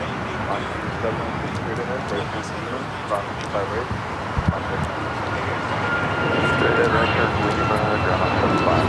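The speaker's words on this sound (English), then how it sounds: "That was Alaska 1315 taking off to Portland on the MAX 9." An Alaska Airlines Boeing 737 MAX 9 takes off at LAX, a broad roaring jet rumble that swells louder toward the end, heard from a distance with people talking over it.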